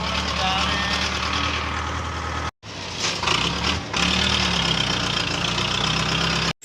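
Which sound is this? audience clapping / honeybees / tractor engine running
tractor engine running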